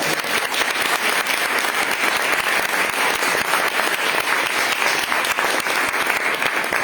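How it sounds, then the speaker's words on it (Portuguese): A church congregation at a miracles and worship service applauds the Lord, loud and close, a thick, unbroken burst of many hands clapping throughout. "E vamos aplaudir ao Senhor"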